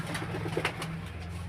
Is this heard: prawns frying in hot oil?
no